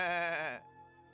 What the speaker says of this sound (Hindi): तभी उसके पास एक बकरी का बच्चा आया